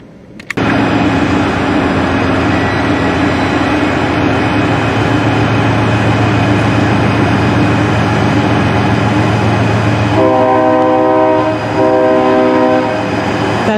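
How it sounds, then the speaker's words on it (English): A train passes near the Mississippi River in Minnesota with a loud, continuous rumble and clatter close by. Its horn sounds in two blasts near the end over the roar. "That's a train."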